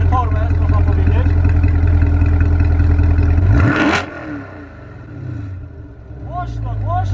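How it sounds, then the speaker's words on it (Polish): A sports car starts up and its exhaust settles into a loud, steady idle rumble; the engine note drops away briefly, then rises again near the end as people talk over it. "posłuchajmy dźwięku wydechu. Odpalimy samochód."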